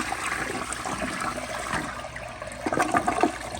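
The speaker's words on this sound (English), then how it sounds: "But here's another flush, but with the handle held down for a few extra seconds." Flush of a 2012 General De Ceramica toilet with the handle held down for extra seconds: a steady rushing wash of water that swells and gurgles toward the end, heard close and alone.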